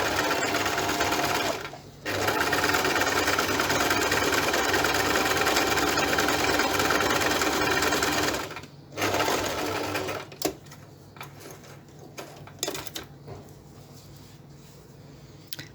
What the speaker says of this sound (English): my stitches in zigzag